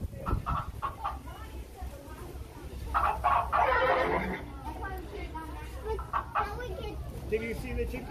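Chickens cluck and squawk alongside a horse's whinny, with people talking over the animal noises in a busy, echoing space at Magic Kingdom.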